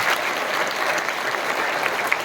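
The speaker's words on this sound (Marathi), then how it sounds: "वाजवा जोरात टाळी." Loud, dense clapping from an audience at a kirtan gathering, continuous and evenly sustained throughout with no talk over it.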